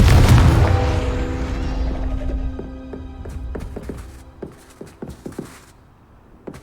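A Confringo spell explosion in the video game Hogwarts Legacy opens with a loud booming blast whose ringing tail slowly fades, followed by scattered sharp taps and steps.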